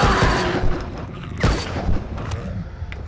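Sniper rifle fire in the shooter game SNIPZ: a few sharp shots with booming tails ring out over a busy, noisy game soundscape, the loudest near the middle.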